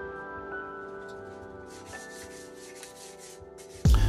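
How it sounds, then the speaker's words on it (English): Fine 600-grit sandpaper rubbed over a bike frame during a restoration gives a steady, soft scratching swish that runs continuously at close range before a sudden louder burst at the end. "after a lot of experimenting with different grades of sandpaper, I ended up using pretty much 600 over the whole frame"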